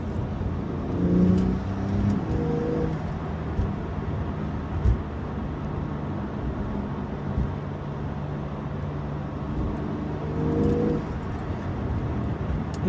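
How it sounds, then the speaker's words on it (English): A Porsche 911 Carrera engine drones steadily from inside the cabin, swelling briefly as it accelerates, with a faint high turbo whistle riding over the hum. "when you get on it, you can even hear a little bit of turbo whistle"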